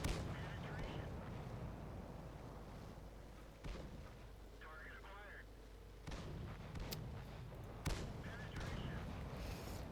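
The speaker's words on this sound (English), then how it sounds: "I think this dude's firing gold at me." An enemy fires gold rounds in a tank battle video game: repeated heavy booming shots and impacts over a dense rumbling battle din, with a voice talking over the noise.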